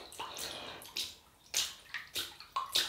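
Water from a tap runs and splashes in short, uneven bursts while a synthetic shaving brush is wetted to start lathering Faberge Brut, close and fairly quiet with no talk.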